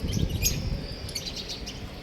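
Lovebirds chirp in a small aviary, high-pitched calls repeating in quick bursts over a steady low background rumble, fairly close and continuous throughout.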